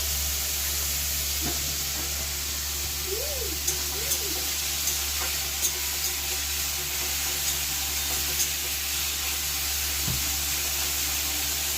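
Carrots frying in a pan seasoned with salt and turmeric give a steady, quiet sizzle with a few light stirring clicks, heard alone with no talk.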